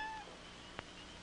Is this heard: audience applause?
no